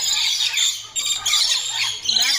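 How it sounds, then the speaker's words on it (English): A bird squawking loudly at an exotic bird park, harsh squeals close by that repeat in short bursts over a low background hum. "That's some noisy bird."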